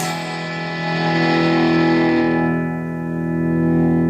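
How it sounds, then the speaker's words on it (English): A sustained electric guitar chord played on a humbucker pickup through a Moen Buffalo pedal, with a gritty, lightly overdriven tone, rings out, swelling twice as it is played again. "So you can almost use that as a real slight overdrive."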